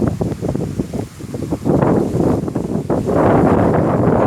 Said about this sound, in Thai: อยู่กับบรรยากาศทุ่งนาฮะ ลมพัดเย็นสบายครับ